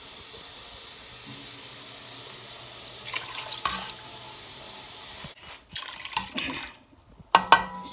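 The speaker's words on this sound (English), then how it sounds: "we're going to add about, let's say, 3 cups of water" Water is poured from a tap and cups into a shrimp stew pot: a steady close hiss and rush of running water, then brief splashing pours and clinks, with no talking.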